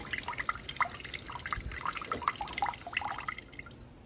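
Sboly coffee maker trickling freshly brewed coffee, a close run of small irregular drips and splashes that continues steadily, then fades out toward the end.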